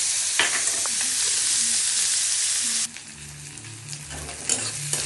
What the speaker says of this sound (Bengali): এখন পেঁয়াজ কুচিটা দিয়ে দিচ্ছি।